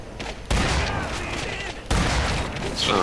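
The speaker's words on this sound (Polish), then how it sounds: "Teraz strzela." Bursts of rapid gunfire fill the fight in the video game The Darkness II, a dense, continuous barrage that swells in two loud waves.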